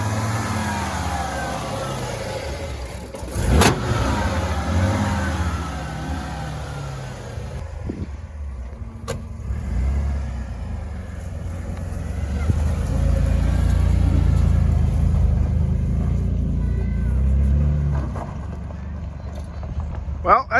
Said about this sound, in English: brother put a brand new Napa battery in it, cranked it over, and there she goes